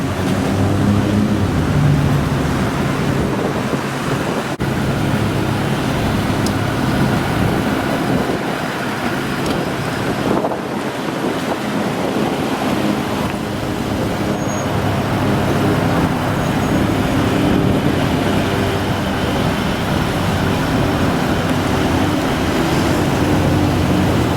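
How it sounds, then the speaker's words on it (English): Road traffic passes steadily near a busy entrance, vehicles rolling in and out in a continuous rumbling wash of engine and tire noise, with no talk over it. "A lot of vehicle traffic coming in and out of here."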